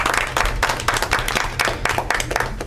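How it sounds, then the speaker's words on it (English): Audience at a public meeting applauding a scout, a light scattered patter of clapping from a modest crowd, fairly close and continuous for a few seconds. "How about a round of applause?"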